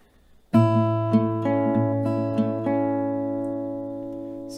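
A single chord rings out on an acoustic guitar, strummed once with a few light re-strikes, its notes sustaining and slowly fading, close and clear with no talking.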